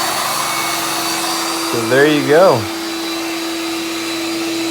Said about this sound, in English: And that's powered just by the vacuum. There's no belt on there. Vacuum suction power.